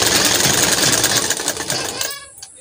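A sewing machine stitches pant fabric during pocket attachment with a close, loud, rapid chatter that cuts off near the end.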